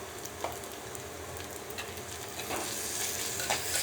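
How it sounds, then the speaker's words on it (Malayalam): Ginger and garlic sauté in hot oil for a prawn masala, a soft continuous sizzle with light stirring scrapes throughout, close and fairly quiet. "ഇഞ്ചി അര ടീസ്പൂൺ വെളുത്തുള്ളി കൊണ്ട് നമുക്ക് വഴറ്റും"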